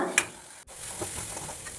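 Powdered dried prawns roasting in a pan over high heat for a Kerala-style thoran, with a soft continuous sizzle and a spoon scraping and stirring close by.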